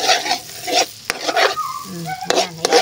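Wangpa being sautéed in a hot pan, a loud close sizzle broken by scraping stirs and a few sharp utensil knocks, with a brief tonal squeak partway through.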